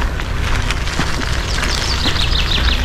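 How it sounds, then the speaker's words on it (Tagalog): Birds chirp and tweet in short repeated calls across an outdoor nature setting in the Philippines, set against steady background noise with occasional sharp cracks or snaps. "Puro huni ng ibon maririnig mo."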